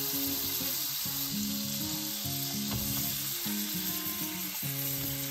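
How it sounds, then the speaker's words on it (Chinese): Mushrooms stir-fry in a pan just used to fry an egg, giving a steady, close sizzle throughout with faint tonal sounds underneath. "煎完個蛋嘅鍋咧，就可以攞嚟炒蘑菇啦。"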